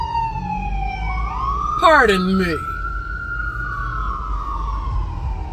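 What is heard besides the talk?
ambulance siren passing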